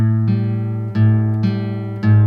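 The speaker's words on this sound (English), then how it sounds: "we're taking the 5th string, and we're going to tune it down to sound like G" A guitar's fifth string, tuned from A down to G, rings loud and close in sustained plucked notes, struck four times in overlapping succession for alternate tuning.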